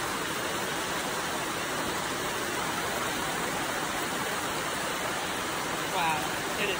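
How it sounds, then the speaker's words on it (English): Heavy rain pours down outdoors as a constant, dense hiss of falling water, loud and unbroken, with no talk over it. "Wow, it is pouring out"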